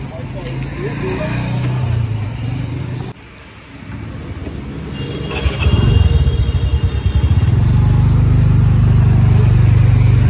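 A car's engine hums steadily from inside the cabin, rising into a louder, sustained drone as it gets underway, with people talking over it.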